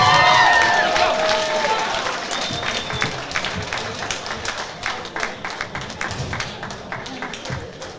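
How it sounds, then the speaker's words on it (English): Applause from an audience at an all-female boxing show after a bout, a dense wash of clapping that starts loud and slowly thins, while an announcer talks over it. "keep your applause going while we're waiting here"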